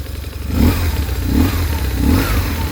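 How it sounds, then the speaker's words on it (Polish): A BMW GS 1150 motorcycle engine idles close by and is revved up three times in quick succession, each rise swelling and falling back. "Ja dwa razy go przegazuję."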